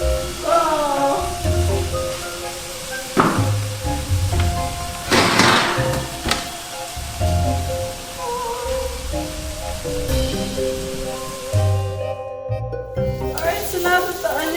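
Onions frying in a pan, a close crackling sizzle under intermittent stirring scrapes and utensil knocks, with bursts of brighter hiss and someone talking softly at times.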